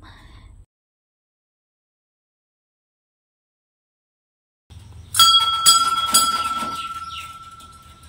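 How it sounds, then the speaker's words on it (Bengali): After a long silence, a metal bell is struck a few times, its bright ringing tone lingering and slowly fading. "তারপর মন্দিরে ঘন্টাটা একটু বাজিয়ে নিলাম।"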